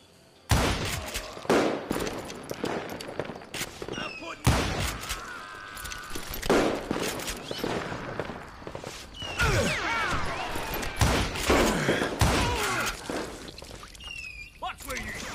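Rifle gunfire in the Western shooter video game Call of Juarez: Gunslinger, a series of sharp loud shots spread irregularly across the scene, mixed with game effects and someone talking over them.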